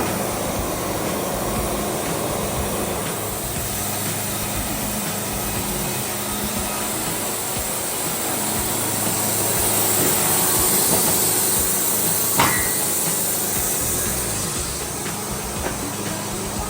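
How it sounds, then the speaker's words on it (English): A Wood-Mizer Super 70 sawmill, with a hidden crack in its pump, runs with a steady broadband hiss and hum, loud and continuous, with a brief sharp click near the end. "Got a guy in there sawing for me right now."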